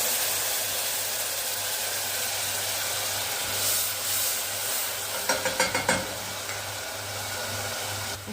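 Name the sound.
golden fried garlic sizzling as vinegar is added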